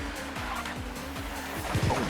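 Touring cars from the TOCA racing game, a Peugeot and a Volvo among them, roar in close combat, with engine notes repeatedly sweeping and shifting and a brief tire scrub near the end, steady and moderately loud.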